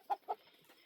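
Backyard hens in a mixed flock with several roosters give two quick, clear clucks close by, followed by a few softer murmurs.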